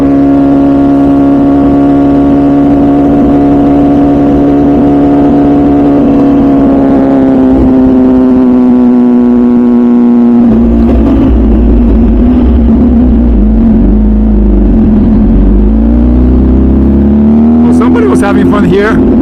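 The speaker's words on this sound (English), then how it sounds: "Pull over there at the end of the road, just so you guys can hear the exhaust. I'll give you guys a couple of revs." A Ducati or MV Agusta motorcycle idles loudly and close, with a deep, steady exhaust drone. The pitch dips and shifts as the engine is blipped, ending with a sharper rise in revs.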